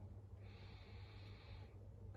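An 18-year-old cat struggles to breathe, giving a faint, wheezy, snorting breath that is drawn out steadily over a low background hum, close and quiet, with no talking.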